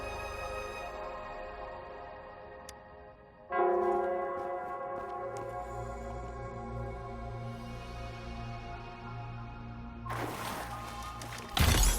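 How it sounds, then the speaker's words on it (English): Bell ringing in the video game Wuthering Waves: sustained, ringing tones that swell after a sharp strike partway through, layered over steady low ambience with a brief burst near the end; no one speaks. "The bell sounds closer now."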